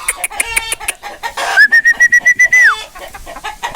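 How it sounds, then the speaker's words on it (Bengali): A lively, colourful hill chicken hen of the Lajja breed clucks close by in a quick series of sharp calls, followed by a sustained whistle-like tone and a burst of rapid, evenly spaced clucks. "লাজ্জা প্রজাতির একটি গলা ছিল কালারফুল মুরগি আর অনেক চঞ্চল এই মুরগিটি"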